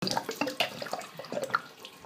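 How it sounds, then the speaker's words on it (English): Water spraying from inside an open Delta tub and shower valve body with the cartridge removed, a steady hissing splash with uneven bursts that rise and fall, close and fairly loud, with no voices. "inside here, where the water's shooting out again"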